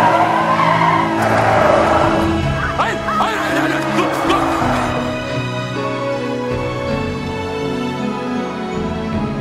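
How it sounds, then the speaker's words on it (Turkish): A car's tires skid and squeal loudly as it brakes hard to a stop on a street, the screech sustained for several seconds before fading into engine and street noise. "Az kalsın araba çarpacaktı, aklımı aldın."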